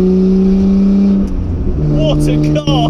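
A loud modified R32 Skyline engine drones at a steady high pitch, then dips and climbs again as it revs, with a short gap before the roar resumes.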